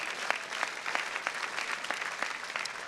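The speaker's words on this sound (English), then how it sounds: "Go ahead, clap for yourselves." Alumni at the Harvard Alumni Day gathering clap for themselves, a soft, even wash of applause from a large crowd heard at a distance, with no talking.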